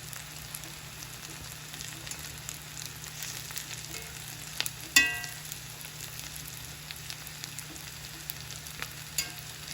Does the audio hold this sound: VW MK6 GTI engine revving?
no